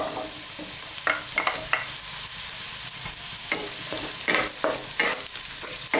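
Pork sausage sautés and sizzles in a pan with a steady frying hiss, broken by short scraping stirs of a utensil every second or so, close and clear with no voices.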